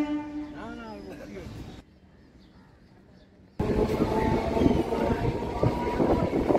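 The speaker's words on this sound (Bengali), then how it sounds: "শিয়ালদা নর্থ থেকে ট্রেনটা বিধাননগরের দিকে যাচ্ছে।" Local train running between Sealdah North and Bidhannagar at a Kolkata suburban station, a loud sustained rumble of cars rolling past after a quiet gap, preceded by an announcement-like tone and a voice.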